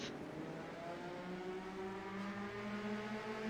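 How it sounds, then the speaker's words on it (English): Race cars rolling off to begin pace laps at New Hampshire, a faint, distant engine drone with several overlapping tones rising slowly in pitch, no talking. "Cars roll off."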